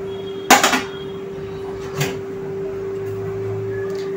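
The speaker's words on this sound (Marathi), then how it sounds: "आता मी इथे गॅसमध्ये पातेलं ठेवलेलं आहे" A cooking pot is set down on a gas stove in a home kitchen: one sharp metallic clank with a short rattle, a softer knock after it, and a steady hum underneath.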